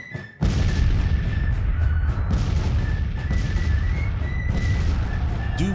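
Distant artillery booms and rattling gunfire roll continuously in Grand Tactician: The Civil War, a dense battle bed with scattered thumps and faint whistling tones, loud and steady after a short quiet start.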